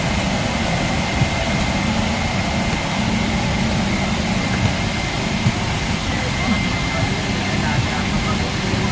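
Inside an airplane cabin, seated and waiting for takeoff bound for Dubai, a loud, constant engine roar and hum fills the space without letup.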